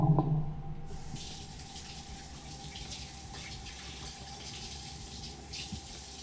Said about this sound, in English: I'm also gonna wash my hands really quickly.